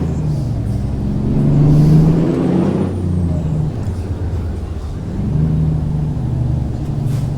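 A truck in American Truck Simulator rumbles as it slows, with an air brake hiss and a low engine drone that swells and fades, with no one talking over it.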